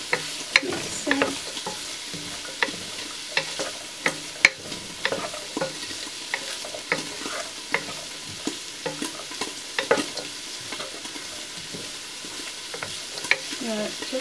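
Black bean sauce for jajangmyeon being stirred in a pan, with frequent sharp utensil scrapes over a soft sizzle, close and irregular, and no voices.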